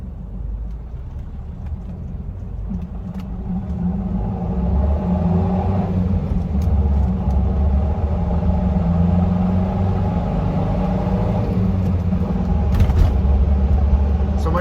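A 1977 Mercedes-Benz 240D W123 diesel engine at full throttle on a test drive, a steady low rumbling drone inside the car whose pitch rises gradually over about fifteen seconds.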